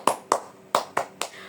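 Students in a classroom clap out the 'tepuk semangat' pep rhythm, five crisp, near claps falling in two short pairs and then a final lone clap, with no talking.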